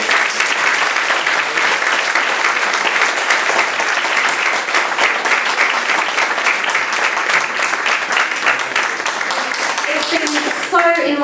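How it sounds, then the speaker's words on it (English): Sustained, loud applause from an audience at a panel discussion, steady dense clapping for the whole stretch, with a voice starting to speak near the end. "if we could have a round of applause for the speakers who volunteered"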